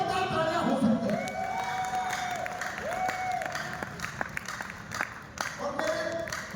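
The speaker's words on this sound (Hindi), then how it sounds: "जोरदार तालियां हो सकती है" An audience at a motivational talk breaks into steady applause, a continuous patter of clapping at moderate distance with a voice speaking over it in places.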